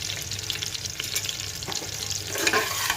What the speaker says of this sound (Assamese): চব আলুখিনি ফ্ৰাই হৈ গ'ল